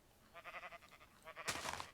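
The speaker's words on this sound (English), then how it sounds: "those poor sheep. They're all just in a tiny little pen. A noisy tiny little pen." Sheep crowded into a tiny pen in Minecraft, bleating in short wavering calls one after another, faint and fairly close, ending with a brief louder rustling burst.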